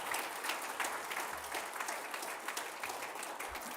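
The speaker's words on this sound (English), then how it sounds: "Round of applause for our sponsors." A conference audience in a plenary room applauds for the event's sponsors, a steady wash of clapping from many hands at moderate distance, fairly quiet and continuous for a few seconds.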